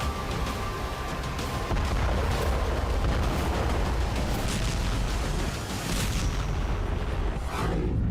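Heavy bomb blasts from a 500 kg air strike in the Russia-Ukraine war rumble as a dense, loud, sustained roar of booming impacts with no voices heard.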